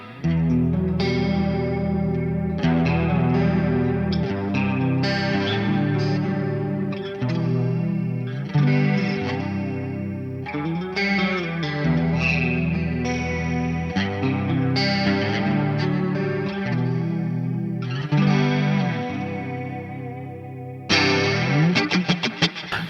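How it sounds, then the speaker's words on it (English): Electric guitar running through a Tone City Angel Wing chorus pedal, with shimmering, warbling chorused chords and melodic lines played steadily and loudly, alone with no voices. "Like obviously the Angel Wing for modulation. I tend to mostly run chorus as a modulation."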